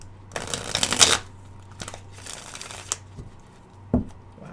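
Tarot cards are shuffled in a few quick riffling bursts, close and crisp, with soft taps and pauses between them.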